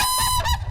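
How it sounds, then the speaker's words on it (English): Whooping cranes, a bonded pair, trade overlapping bugling honks in a brief unison call, loud and close, with the two voices layered over each other. "So that's the sound of a unison call."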